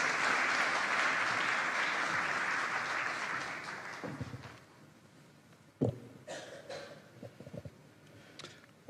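An audience applauding at a conference opening ceremony, a dense roomful of clapping that carries for about four seconds and then fades away, followed by scattered coughs and small noises in the quieter hall.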